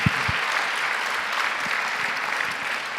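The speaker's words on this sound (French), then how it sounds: "On peut l'applaudir" Steady, dense applause from an audience at a science show fills the whole stretch, even and sustained without a break.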